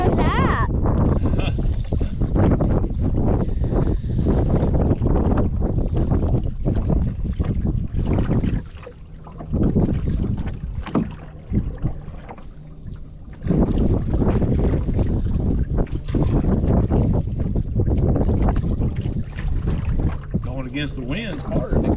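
Wind buffets the microphone continuously on a canoe trip at Wheeler, a loud rumbling roar with gusts that dip briefly midway, while people talk over it.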